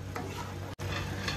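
Onion, tomato, ginger and chili puree masala with red chili, salt, turmeric and dry coriander stirred and fried in a pan, a soft continuous sizzle with light scraping of the spoon, heard alone.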